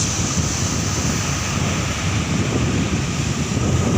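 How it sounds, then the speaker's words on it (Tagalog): Powerful sea waves roar continuously during strong northeast monsoon winds, mixed with heavy wind buffeting the microphone, with no voices. "sobrang lakas na po ang mga alon dito"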